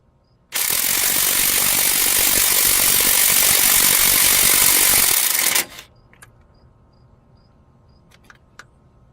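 An impact gun fitted with a T55 bit hammers at a flywheel bolt on a Hyundai Tiburon in one loud, close burst of about five seconds, then stops abruptly, leaving faint clicks and handling noises.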